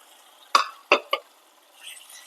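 Fenugreek leaves dropped into a pan of oil and masala for lasooni methi, three quick rustling scrapes and sizzles in close succession, then a faint hiss, close and clear.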